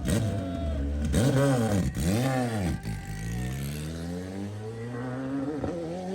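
A race car takes off at the Pikes Peak hill climb, its engine revving hard through repeated rising and falling sweeps, loud and close with no talk.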